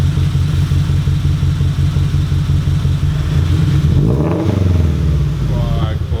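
Toyota GT86 fitted with Tomei titanium headers revs up to about 3,000 rpm, a loud, deep engine drone holding steady, then a swelling rev near the end; people talk over the engine.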